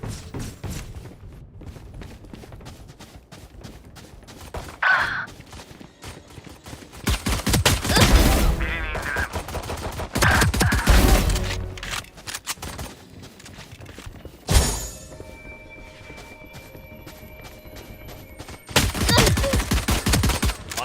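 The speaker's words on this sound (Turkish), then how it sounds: "Mermiler uçuşsun." Gunfire in the first-person shooter game Valorant: repeated bursts of rapid automatic shots and single cracks, with loud dense volleys and quieter gaps between them.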